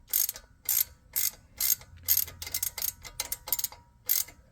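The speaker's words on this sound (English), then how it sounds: "So now I'm just gonna my socket ratchet" A socket ratchet loosens a bolt on a 2012 Ford Focus while a wheel speed sensor is being serviced, giving bursts of quick, close, crisp clicking that repeat in short, rhythmic strokes with brief pauses between them.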